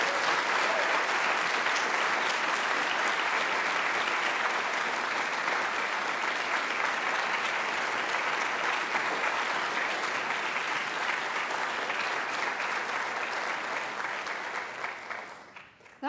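A conference audience applauds steadily and warmly for about fifteen seconds to welcome a speaker at a theology conference, dense even clapping from a large crowd that fades out at the end, with no voices over it.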